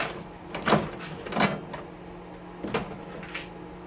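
An oven part slides out during a teardown, giving a few scraping, clunking metal sounds at close range, a couple of louder knocks then a softer one, with quiet pauses between.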